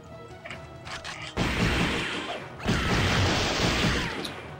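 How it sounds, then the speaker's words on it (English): A vacuum cleaner in a Dreamcast video game comes in as a loud, harsh broadband rushing roar in two long bursts, after a quieter start with clanking mechanical game sounds. "Is that a vacuum cleaner? Yeah, yeah. That's a vacuum cleaner."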